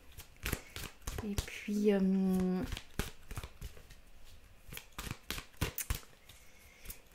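Cards shuffled for a tarot-style card reading, a dense riffling burst of about a second amid soft handling clicks, with a voice talking around it.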